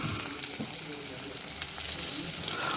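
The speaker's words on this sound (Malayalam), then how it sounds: "ഗ്രീൻ ചില്ലി ഇവയിട്ടൊന്ന് നല്ല രീതിയിലൊന്ന് സോട്ട് ചെയ്തെടുക്കുക" Green chillies sauté in a hot pan for a homestyle toddy-shop prawn curry, giving a continuous close sizzle with occasional stirring scrapes and soft clicks throughout.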